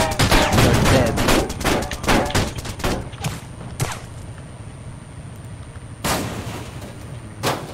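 Video game gunshots: a dense volley of sharp, loud reports at the start, then scattered single cracks, a quieter lull, and a couple of renewed bursts near the end.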